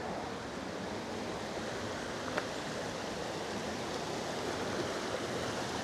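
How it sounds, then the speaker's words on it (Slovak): Water trickling and dripping over rocks in Juráňová valley, a soft, steady wash of broadband splashing with one brief sharper drip, fairly faint and continuous with no voices. "Tu po skalách kvapká vodička."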